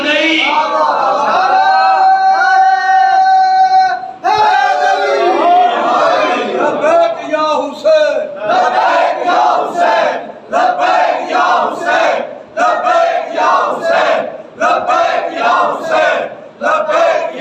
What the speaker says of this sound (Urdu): لبیک یا حسین کے نعرے لگایا کرو